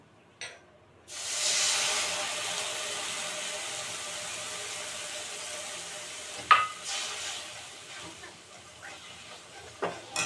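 Finely chopped jaggery and a splash of water cook in a pan for dry-fruit laddu. A brief clatter gives way to a steady, close hiss of bubbling sugar, broken by a couple of sharp stirring knocks.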